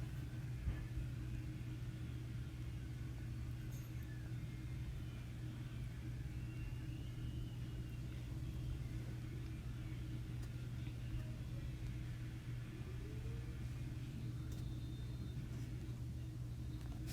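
Off-road vehicle driving in the video game Off-road Outlaws, a steady low engine rumble droning on without break, fairly quiet and even throughout.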